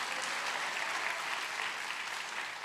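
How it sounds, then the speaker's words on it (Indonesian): Steady applause from a church congregation, a dense wash of many hands clapping at an even level throughout, with no voices standing out. "Tepuk tangan dong"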